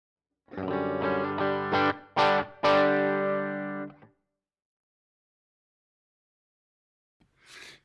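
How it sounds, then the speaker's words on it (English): Distorted electric guitar chords ring out through an amp for about three and a half seconds, then silence, with a faint noise near the end. "We got the guitar working, playing through the Augsburg."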